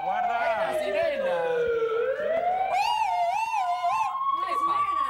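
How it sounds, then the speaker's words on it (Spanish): A wailing siren sweeps down and up through long rising and falling tones, loud and continuous, with people talking over it in a kitchen setting. "¡Una sirena!"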